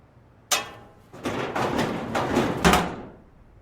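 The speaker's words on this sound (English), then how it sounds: "Doesn't look like it's going to be complicated to open this door with a crowbar." A blocked door in the game Dead Synchronicity is forced open with a crowbar: a sharp metallic crack, then a few scraping, grinding wrenches and a final loud clunk as it gives way.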